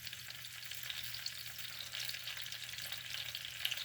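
Tomatoes and white onion sauté in a pan with miso nearby, giving a steady, soft frying hiss at close range that carries on without pause and with no talking.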